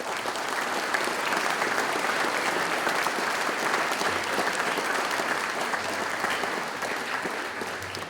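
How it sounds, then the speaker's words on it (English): A church congregation applauds hospital staff at a Tuesday service, steady dense clapping filling the room for about eight seconds before easing slightly at the end. "all those staff who took such good care of you deserve a round of applause"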